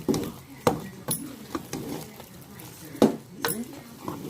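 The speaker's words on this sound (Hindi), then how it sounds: "अब हम इसकी भुनाई करेंगे जब तक कि घी साइड से ऊपर ना आ जाए" A spoon scrapes and clinks against a pan while carrot halwa with sugar and ghee is stirred and roasted, giving irregular knocks and soft stirring close by, with a voice speaking now and then.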